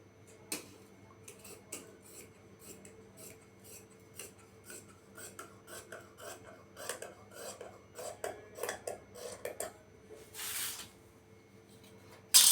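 Scissors snip through fabric while palazzo pants are cut out, a series of quiet close rasping cuts in irregular rhythm, with a louder rustle of cloth near the end.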